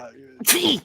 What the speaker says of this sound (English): Sorry, my wife makes fun of my sneeze.